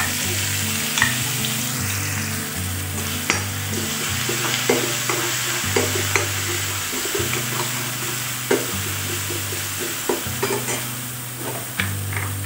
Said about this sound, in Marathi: तेल आपलं गरम झालेलं आहे, आपण त्याच्यामध्ये जे वाटण केलं आहे ते टाकूया.